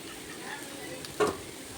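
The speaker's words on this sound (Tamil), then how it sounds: "இப்போ இந்த பாவக்காவை நம்ம தோசைக்கல்லில் சிம்மிலேயே வச்சு அப்பப்போ கிண்டி விட்டுட்டே இருங்க" Bitter gourd and onions frying on a dosa pan over low heat, a soft continuous sizzle with one brief louder scrape of stirring near the end.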